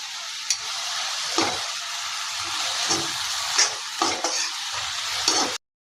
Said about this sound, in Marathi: त्यानंतर मीठ टाकून घेऊ. छान मिक्स करून घेऊ.